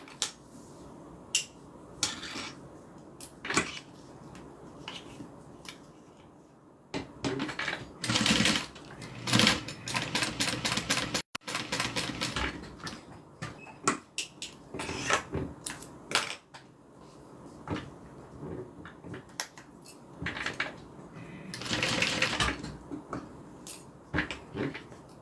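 A sewing machine stitching strap connectors onto a bag reinforced with Peltex, running in bursts of rapid mechanical clatter separated by pauses and handling noises.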